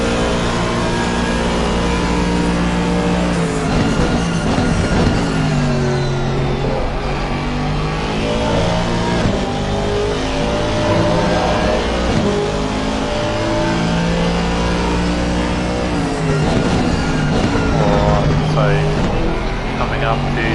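V8 race car on a final lap at Bathurst, engine droning loud and continuous with rising and falling pitch through gear changes and acceleration, heard from on board, with commentary voices over it.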